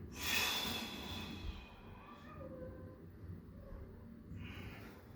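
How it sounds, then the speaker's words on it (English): Heavy, drawn-out breaths close to the mic, a strong exhale at the start followed by quieter, steady breathing with no talking. "You may hear me put an emphasis on my breathing"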